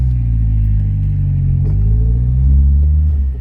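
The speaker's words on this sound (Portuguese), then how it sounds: "Sai com o carro, ó." A car with an aftermarket fuel-injection setup pulls away, its engine holding a steady, loud, close rumble that rises slightly in pitch as it accelerates, with no voices.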